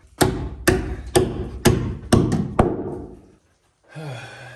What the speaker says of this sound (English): What we're gonna do is just take our tin snips. We're gonna snip this guy here.